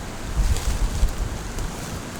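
Wind rushes and buffets the microphone on a windy day outdoors during a turkey hunt: loud, steady roaring noise with low gusty thumps, no voices.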